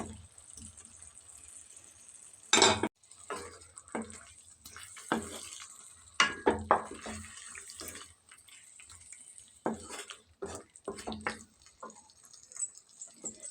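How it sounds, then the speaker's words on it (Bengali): Fried paneer cubes being stirred and coated with spices in a pan, giving a quiet run of scraping, clinking and wet shuffling strokes, with sharper knocks now and then and a faint low hum underneath. "ভালোভাবে মশলার সাথে মাখিয়ে দিচ্ছি পনিরগুলোকে।"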